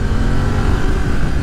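A 2020 BMW F900R Sport Style roadster motorcycle engine drones steadily while being ridden, a loud, continuous mid-pitched hum with wind noise and no voices.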